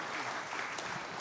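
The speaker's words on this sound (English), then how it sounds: "Let's all give Kareen a big round of applause" Audience applause at an investment dinner, a short steady wash of clapping from the room with a faint voice underneath.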